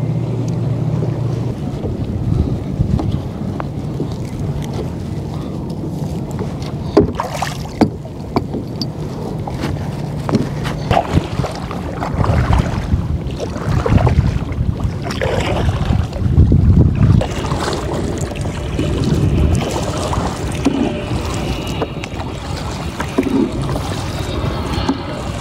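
A kayak paddles toward shore on Botany Bay, with paddle splashes and water sloshing against the hull under steady wind buffeting the microphone, close and continuous, with no talking.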